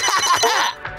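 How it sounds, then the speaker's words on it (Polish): Telephone bell in a cartoon ringing loudly in a quick trilling burst that cuts off abruptly after under a second. "Telefon! Dzwoń do Rozalka!"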